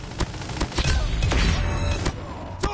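A sentry gun in the Call of Duty Mobile video game fires sharp, spaced shots over a dense, steady wash of battle noise.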